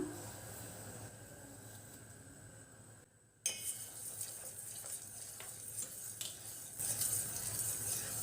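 A spoon scrapes and stirs semolina steadily through boiling milk in a pot, with a soft bubbling hiss and occasional light clinks against the metal.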